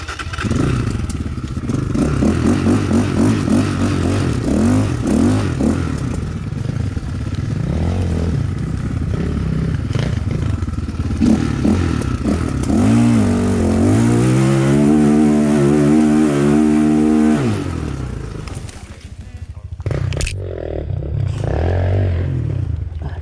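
A BSE 250 enduro motorcycle climbs a forest hill in first gear, its engine droning and revving loudly and steadily, with a strained rising pitch near the end before dropping off.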